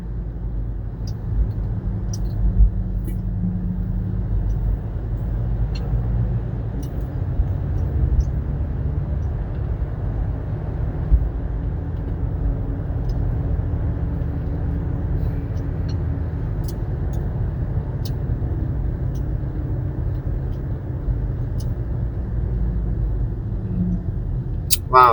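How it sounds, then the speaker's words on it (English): Steady freeway traffic in Honolulu heard from inside a moving car on a Saturday, a continuous low road rumble and engine drone with occasional faint clicks, no talking. "But a lot of traffic."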